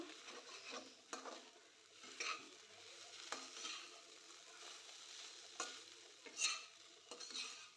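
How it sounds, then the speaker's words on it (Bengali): Jackfruit seeds sautéing with poppy seed paste in a pan, quiet background sizzle under repeated spoon scrapes and light metallic clinks at an uneven rhythm, with no talking. "পোস্তর সঙ্গে ভালো করে আরেকটু সময় কষিয়ে নেব দু মিনিট মতো"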